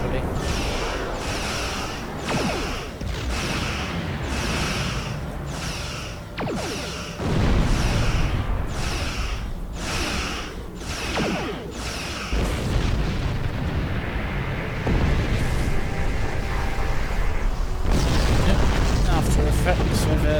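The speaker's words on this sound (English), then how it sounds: "Effects of that explosion there." An explosion in the Star Trek Online video game, rumbling booms and heavy low bursts recurring through the stretch, with a louder sustained blast near the end.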